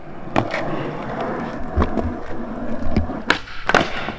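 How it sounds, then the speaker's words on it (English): Skateboard on small wheels rolling and attempting kickflips, with a continuous rumbling roll broken by several sharp wooden snaps and board slaps landing at irregular intervals, close and fairly loud. "Try just straight kickflip."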